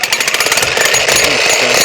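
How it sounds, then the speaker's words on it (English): Jackhammer pounding into hard, rocky limestone ground at a DIY A-frame house foundation, a loud, close, rapid hammering rattle that continues steadily with no talking. "But I've never actually used a jackhammer before."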